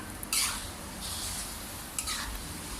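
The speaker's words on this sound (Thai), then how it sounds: "เวลาทอดหมูก็ใช้ไฟกลางนะครับ ค่อยทอดนะครับ ค่อยทอดไปเรื่อย ๆ ครับ" Soft, steady sizzling of skinless pork belly frying in a pan over medium heat, with a few brighter crackling bursts over the low hiss. No one speaks.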